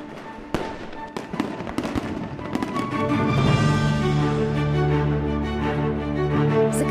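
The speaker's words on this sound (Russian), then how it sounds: "Загремел салют, люди пляшут и поют." New Year fireworks in Tyumen Oblast explode in a dense barrage of loud cracks and bangs, building into a continuous roaring crackle with whistling tones, heard from a moderate distance.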